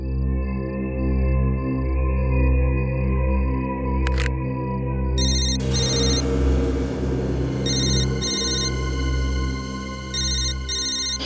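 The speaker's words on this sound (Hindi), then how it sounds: "उस तरफ से आवाज आ रही है फोन की।" A telephone rings with repeated electronic trilling bursts in a regular pattern over a steady low hum, starting after a brief click.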